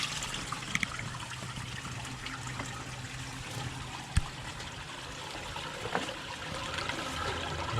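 Water running into the spillway of a large garden water feature, a soft, continuous trickle and splash with a few small knocks.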